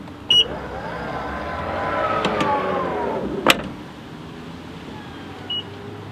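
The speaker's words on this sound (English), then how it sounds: "Tesla Offer close sound." An electric motor hums as a Tesla factory power tailgate swings shut, ending in a latch clunk, with short beeps before and after.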